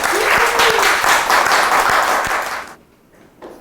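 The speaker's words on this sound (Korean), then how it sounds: "숫자는 적어도 박수는 치셔야지" Small audience at a Korean lecture on China's space program applauding, a few seconds of steady clapping that stops abruptly, followed by a brief quiet pause and a short voice.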